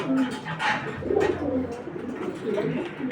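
A young male Maxi racer pigeon, a 2024 bird, coos close by in a series of soft, low, rolling calls over a busy background.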